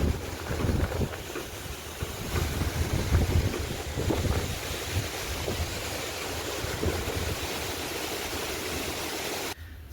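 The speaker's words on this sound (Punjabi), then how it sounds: "ਪੱਲਾ ਮੀਂਹ ਦਾ ਹਟ ਗਿਆ ਤੇ ਹਨੇਰੀ ਉਵੇਂ ਉਵੇਂ ਆ" Strong, steady wind of a storm after rain roars and buffets the microphone, a dense rushing noise with gusty swells that cuts off abruptly near the end.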